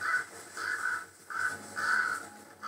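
Ravens calling in a snowy northern landscape near winter carcasses: five hoarse, croaking caws in an uneven series, moderately near, with nothing else heard.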